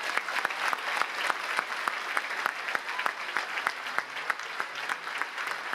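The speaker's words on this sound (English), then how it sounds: "So let's give them a round of applause." Applause at a high school class of 2022 graduation ceremony for National Merit scholars: a steady, moderately distant clatter of many hands clapping, with sharp individual claps standing out throughout.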